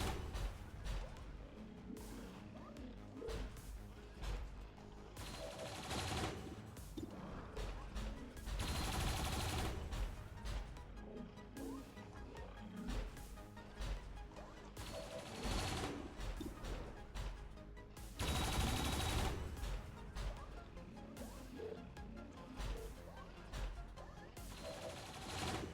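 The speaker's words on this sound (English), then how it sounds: "Let's get some cannon shots in" Turret cannon fire pounds away at a sectopod in XCOM 2, a dense, loud barrage of booming shots and crashing impacts that continues throughout with a few brief lulls.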